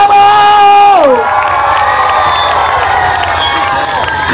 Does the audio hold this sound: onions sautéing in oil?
no